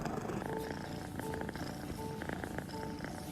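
A cat purrs steadily and softly up close, a continuous low rumbling vibration with faint higher rhythmic ticks over a quiet background.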